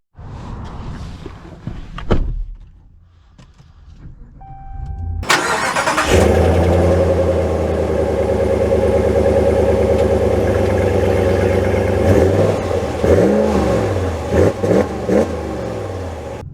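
A Ram 1500 pickup's engine cranks and catches with a loud start, then settles into a steady, deep idle with a few revs rising and falling near the end, heard close up with no talking.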